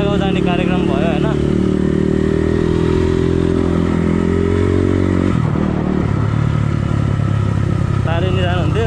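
A motorcycle engine runs loud and close on a Sunday ride to Chunikhel, droning steadily with shifting revs and a brief dip in pitch partway through, while a rider talks over it.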